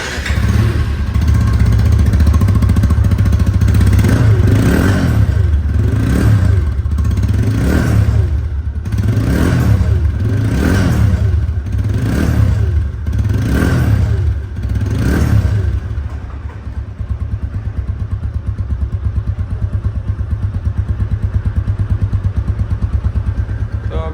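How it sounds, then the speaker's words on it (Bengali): A 2023 RTR 160 CC 2V motorcycle engine, close and loud, is revved in a rhythmic series of about eight surging pulses over its running rumble, then settles into a steady idle. "গাড়িটির সাউন্ড শুনলে আপনারা বুঝতে পারবেন যে গাড়িটির ইঞ্জিন কোয়ালিটি এবং সাউন্ড কোয়ালিটি"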